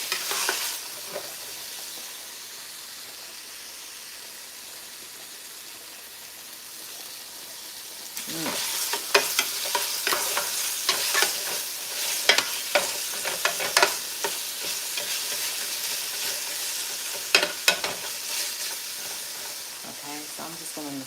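Food simmering in a pan on the stove, a soft hiss at first, then louder sizzling with repeated scraping stirs and clinks; a voice speaks at times.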